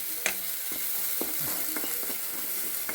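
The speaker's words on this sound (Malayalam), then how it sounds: "ഡ്രൈ ചട്ടിയിലിട്ടിട്ട് ഇങ്ങനെ മീഡിയം ഫ്ലെയിമിൽ തന്നെ ഇങ്ങനെ നന്നായിട്ട് ഇളക്കുക." Cleaned fresh prawns stirred in a dry pan over a medium flame, with scattered scraping clicks of a spoon against the pan over a steady low hiss, close and moderately loud.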